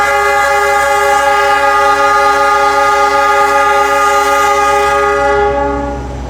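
A passenger train horn blares loudly and steadily for several seconds as it departs a station at night, a rich chord of tones over rumbling rail noise, fading slightly at the end.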